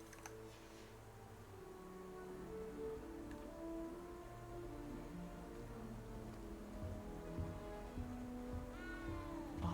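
A cat meows a few times in the Hogwarts Legacy video game, with clear calls near the end over a steady bed of game music and ambient sound.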